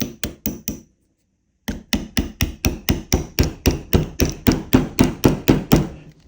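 A metal punch taps a rifle firing pin into place in a steady series of sharp, close knocks, a short burst and then a pause before a longer even run of about twenty strikes.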